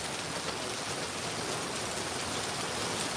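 Heavy storm rain pours steadily in Barnsdall, Oklahoma, a dense, loud, unbroken hiss of drops hammering surfaces nearby, with no voices.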